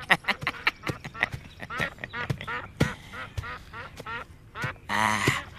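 Whistling ducks (burung meliwis) in an Indonesian period drama, letting out a rapid, close string of sharp quacking calls, denser and louder near the end, with faint speech-like sounds mixed in.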